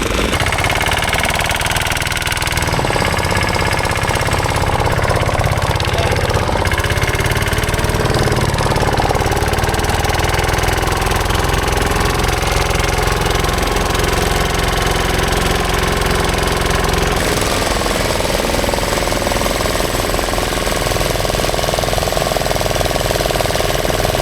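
A boat engine chugs loudly and continuously through a ride, a rough, knocking mid-pitched drone that stays steady and close the whole time.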